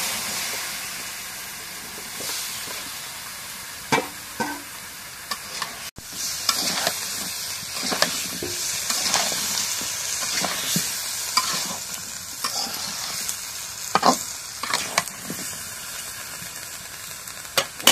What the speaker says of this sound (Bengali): লাউটা রেখে দিই, একটু কষাই দিই।